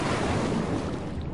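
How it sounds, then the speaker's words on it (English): Water splashing in Darksiders 2, a dense, steady broadband wash of rushing water, loud and close, filling the whole moment without a voice. "Crisp splash."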